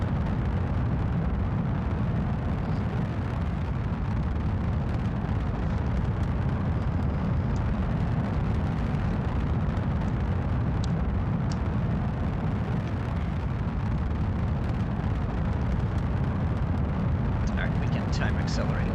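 Rocket booster separation and flight in Kerbal Space Program, a steady, dense roar of engine exhaust running unbroken and loud throughout, with no voice over it.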